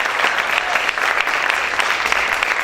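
Loud, sustained applause from a large church congregation, hands clapping densely without pause.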